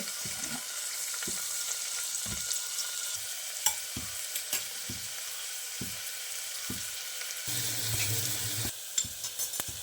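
Chopped onion frying in coconut oil in a pressure cooker, a steady close sizzle with scattered stirring scrapes and clicks, growing louder and fuller toward the end.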